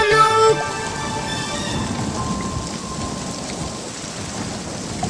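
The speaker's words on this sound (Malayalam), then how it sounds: "പെട്ടെന്നു മാനം കറുത്തു വന്നു, മഴയുടെ കൂട്ടത്തിൽ കാറ്റും വന്നു" A thunderstorm with wind and heavy rain forms a dense, continuous roar of rainfall with low rumbling throughout, after a short burst of tonal music at the very start.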